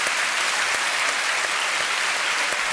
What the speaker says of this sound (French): ça mérite évidemment quelques applaudissements